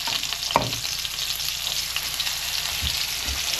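Lamb shanks browning in a hot wok give off a steady, close sizzle and crackle of frying, with a couple of soft knocks as the meat is shifted.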